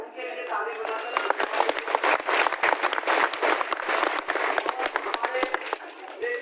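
Audience applause fills an ashram gathering, dense rapid hand clapping from a sizable crowd, loud and sustained for several seconds before tapering slightly at the end.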